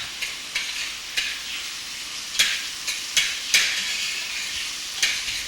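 Sizzling oil in a pot while cooking beef jollof rice in Ghana, with a spoon scraping and knocking against the pot in irregular strokes over a steady frying hiss, close and alone.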